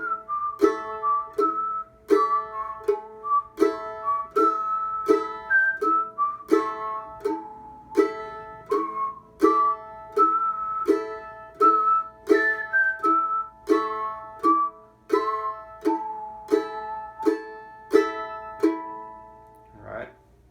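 Whistled rendition of the fiddle tune Train 45, a melodic line of clear, bright pitched notes moving steadily up and down, with short rhythmic pulses punctuating it and a faint strummed string backing underneath.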